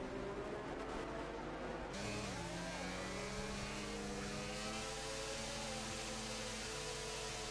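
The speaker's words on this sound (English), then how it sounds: "Oh, that engine sound." A Formula 1 car engine in a racing video game at the Canada round holds a steady high drone that revs and shifts pitch for several seconds, loud and alone.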